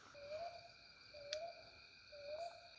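Repeated tonal bird calls, probably an owl hooting, sound three times at an even spacing beside a canal during a traditional night fishing trip, fairly faint over steady insect-like background tones.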